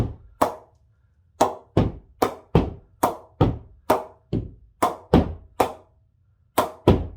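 SG test cricket ball striking an SG cricket bat, a series of about sixteen sharp, ringing wooden knocks close up, spaced in an uneven rhythm of roughly two to three per second, with no talking.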